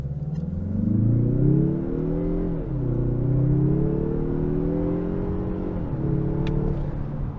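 A car in sport mode held on brake torque revs to around 2,000 RPM, then launches and accelerates hard toward 60 mph, its engine note climbing through loud, close gear pulls with brief dips at each shift.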